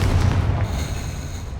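A Confringo explosive spell blast in Hogwarts Legacy lands as a loud, heavy boom with a deep rumbling low end, then a sustained roaring tail that fades slightly over a second and a half, with no voices.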